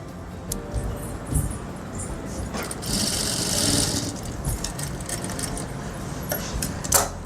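A sewing machine runs steadily while stitching concealed piping onto the slits and hem edges of a kurti. The motor makes a close, continuous whirring hum with a brief louder stretch in the middle and a few sharp clicks.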